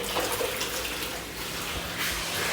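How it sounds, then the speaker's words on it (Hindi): Water runs steadily from a tap into a kitchen sink while dishes are being washed, a continuous close splashing wash with faint clinks and no talk. "बर्तन धो रही है"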